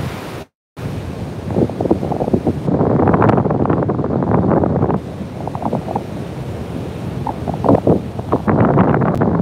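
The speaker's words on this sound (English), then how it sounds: "let's soak in the sound of the waves for one more minute" Steady wash of ocean surf with wind buffeting the microphone, loud and continuous, with a brief dropout near the start.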